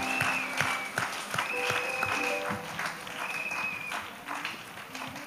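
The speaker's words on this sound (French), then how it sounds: "Let's clap. Acclamons très fort." A congregation at an evangelical church gathering claps loudly together, producing a dense, continuous burst of applause that carries on throughout, with a few voices and faint tones mixed beneath it.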